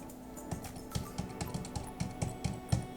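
Typing on a computer keyboard while entering an IP address: a quiet, steady run of close key taps, around ten evenly spaced clicks over a few seconds, with no speech.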